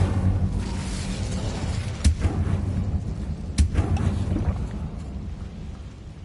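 A fire spell cast in Hogwarts Legacy on PS5: a loud roaring, crackling rush with two sharp booming bursts over a continuous rumbling wash, heard alone without talk.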